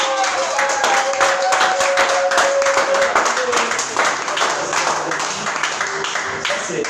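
A church congregation clapping and acclaiming the Lord, dense rhythmic handclaps and cheering voices filling the room, loud and continuous throughout.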